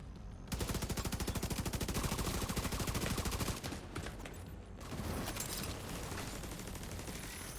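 Rapid, sustained automatic gunfire from enemies in The Division 2 on hardcore mode, dense bursts rattling continuously for several seconds with a brief pause before the shooting resumes.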